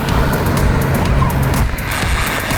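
Toy construction trucks, such as a dump truck, excavator and loader, roll down a slope at a railway station, giving a close, rough grinding rattle with quick clicks and scrapes over a couple of seconds.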